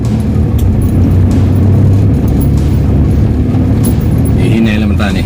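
Road traffic on C5 in Taguig City, heard from inside a vehicle: a continuous low rumble of engines and tyres with passing cars, steady and close throughout, with faint rattling.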